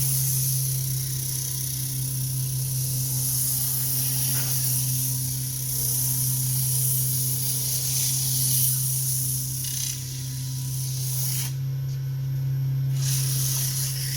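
Sandpaper sanding a turned wooden cup on a spinning wood lathe, a steady close hiss and whir over a constant motor hum, continuous with no breaks or speech.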